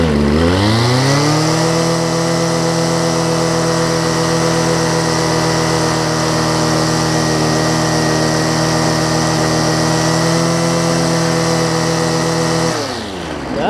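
Homelite ST275 string trimmer engine running after a carburetor kit install, holding a steady high-pitched buzzing drone close up for several seconds before the revs drop off abruptly at the end.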